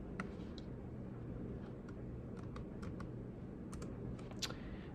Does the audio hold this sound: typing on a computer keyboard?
yes